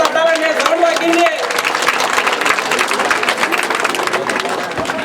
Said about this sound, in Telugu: అందరూ చప్పట్లు తట్టాలండి